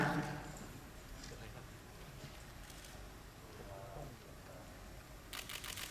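Camera shutters click from press photographers at a Bangkok fanmeeting press conference, a dense scattered clatter of clicks throughout with a sharper burst of rapid shutters near the end, over a murmuring room.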